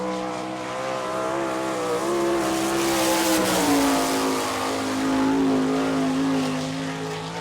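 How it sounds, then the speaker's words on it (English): Sprint race car, the 88 car, on the I-96 Speedway oval in Lake Odessa, Michigan, its engine droning loud and steady with rising and falling pitch as it laps, tyres faintly squealing. "Lance DeWeese in the 88 car"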